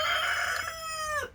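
A rooster crows close by in a garden setting, one clear drawn-out call that rises and then falls away at the end.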